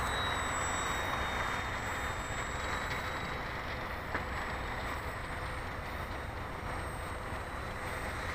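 An FMS SuperEZ radio-control plane with an upgraded motor flies at a field, its steady high electric motor whine carried faintly over constant broadband wind or ambient noise, with no talk.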